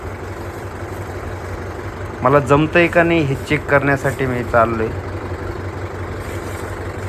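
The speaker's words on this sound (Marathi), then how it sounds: "मी चालवतो आहे आता ट्रॅक्टर" A tractor being driven in a farm field during maize sowing, its engine a steady low rumble throughout, with someone talking over it for a few seconds.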